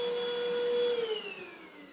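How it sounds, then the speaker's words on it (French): A lightweight cordless vacuum cleaner runs with a steady high whine, then its pitch drops and fades as the motor winds down, close and alone. "Cet aspirateur, il a un autre avantage."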